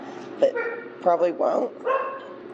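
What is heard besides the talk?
dog barking in the background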